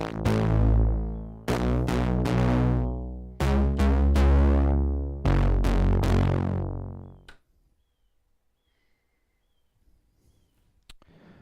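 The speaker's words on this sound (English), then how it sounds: "So the far left is just a bass sound" A keyboard synth bass patch in MainStage plays several sustained, deep notes in rhythmic groups, loud and close, then decays into silence with a faint click at the end.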